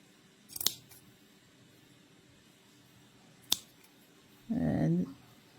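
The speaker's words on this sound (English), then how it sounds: "snip them right in half" Scissors snip through looped yarn wrapped around a pom pom maker in a few quick, separate cuts, the last a longer crunchy snip, all close by against a quiet background.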